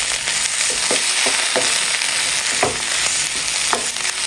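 Boiled potato pieces stirred into a sizzling poori filling mixture in a pan, a steady frying hiss with scattered scraping clicks of the spoon against the pan, close and continuous with no talking.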